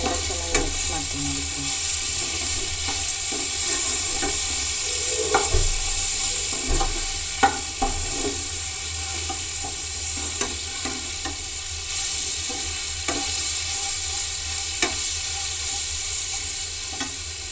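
Carrot capsicum rice (chitranna) is mixed with fried chana dal and peanuts in a pan, giving steady soft sizzling with scattered scraping stir clicks, close and without talk.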